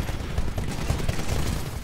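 Continuous gunfire from the Titanfall video game runs loud and dense throughout, a steady rattling barrage of rapid shots with no voices over it.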